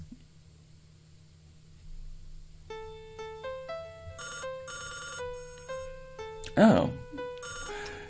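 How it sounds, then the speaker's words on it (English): A simple electronic melody with some of its notes removed plays as sparse, evenly spaced tones with a trilling, phone-ring quality. A brief voiced exclamation cuts in near the end. "we've actually taken out some of the notes from this melody. So when I play it, you can see that it doesn't sound super great"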